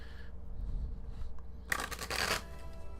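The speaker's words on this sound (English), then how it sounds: "We'll shuffle it quick. We'll do a quick ASMR shuffle for you." A quick riffle of tarot cards being shuffled, one short crisp burst close by against a quiet background.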